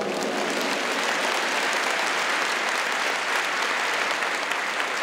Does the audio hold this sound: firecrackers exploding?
no